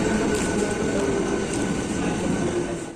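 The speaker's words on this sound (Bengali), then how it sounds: "ট্রেন এসে গেছে আমাদের ট্রেনে উঠছি" A train arriving at a station gives a steady, loud rumble with a constant mechanical drone and faint rattling, heard close by and continuous throughout.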